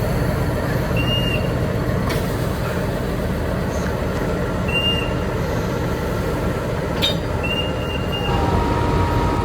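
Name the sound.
Gajayana train with locomotive CC06-1501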